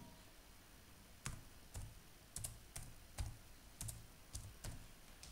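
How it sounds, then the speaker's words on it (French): Keys on a computer keyboard are pressed one-handed while working on a serial connection between a board and a PC, giving sparse, irregular clicks in small bursts at moderate level over a quiet room. "Désolé, j'écris avec une seule main."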